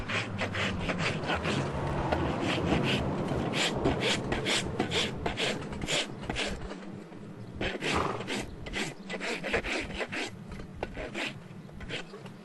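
A farrier rasps a horse's hoof with repeated close, coarse filing strokes in a steady rhythm, with a low rumbling roar beneath early on.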